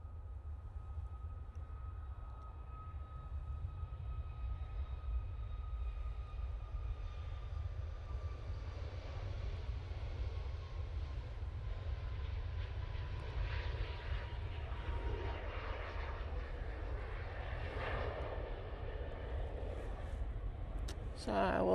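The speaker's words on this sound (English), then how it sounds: "I think we've got a couple of aircraft going down to the bottom, and I think they're both Easyjets" EasyJet aircraft move at Manchester Airport, a faint, distant engine rumble and whine that holds low and steady throughout.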